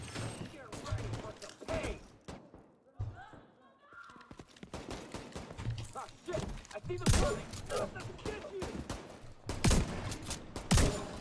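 Repeated bursts of gunfire in the shooter game The Division 2, sharp shots and rattling volleys scattered irregularly across the stretch with thuds, a brief lull early on, loud and close in the mix.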